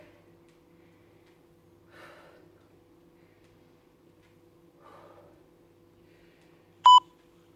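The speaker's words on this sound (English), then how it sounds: "A few more till my timer goes." Exercise timer during a Pilates class: a single short, sharp beep near the end, preceded by long quiet stretches with a steady faint hum and two soft breaths.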